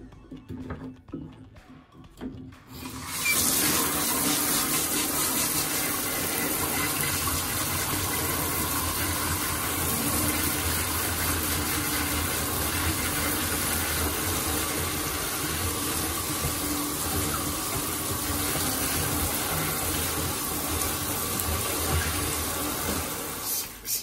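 A handheld shower sprays water across a bathroom floor during cleaning, a loud continuous hiss that starts abruptly after a few seconds of quieter handling noise and holds steady to the end.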